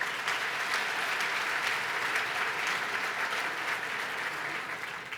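Steady audience applause fills a hall during a governor's 2015 policy address in New York, dense and sustained at constant loudness, with no voices over it.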